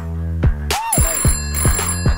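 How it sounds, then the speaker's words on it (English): An indoor telephone in a reality-show house rings with a bright, repeating electronic trill, each burst loud and close, sounding several times in regular succession with no one speaking. "Phone again."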